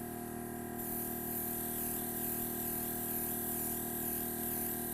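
Spray paint sprayed inside a cardboard box used as a small spray booth, indoors in a kitchen, gives a steady, continuous hiss that runs unbroken for the whole clip, with a faint mechanical hum beneath it.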